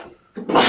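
A short sneeze from a person in a podcast setting: a faint intake of breath followed by a loud burst, close to the microphone, alone.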